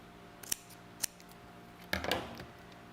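A few crisp snips of scissors trimming a piece of card for a greeting card, two quick separate cuts followed by a longer cut, close and quiet with no talking.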